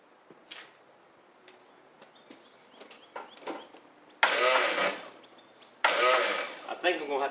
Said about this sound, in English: Starter gear keeps binding up on me